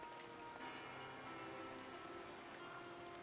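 Steady rain falling in the game Foundation, a dense even hiss that runs throughout with no voices, while faint sustained monks' singing drifts softly underneath.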